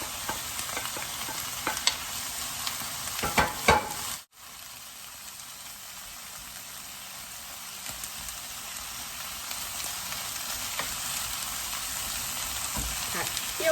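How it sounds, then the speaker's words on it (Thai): Onion, tomato and capsicum stir-fried in a pan give a steady, close sizzle and crackle, with a few scraping stirs early on, a brief dropout near the start, and no talk over the frying. "แล้วก็จะผัดนะคะผัดผักนะคะก่อนนะคะ"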